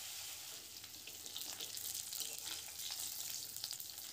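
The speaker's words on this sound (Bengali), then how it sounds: "মাছের মাথাগুলো ভেজে নিচ্ছি।" Fish heads frying in a generous amount of oil for a moong dal give off a steady, fairly quiet sizzle with crackling spatters throughout.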